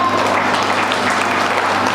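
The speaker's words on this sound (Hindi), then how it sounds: "ताली बजा रहे हो" A large crowd at a Kanshi Ram birth anniversary gathering claps loudly and continuously, a thick wash of applause without pause.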